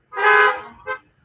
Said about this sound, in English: Honk your horn if you heard that.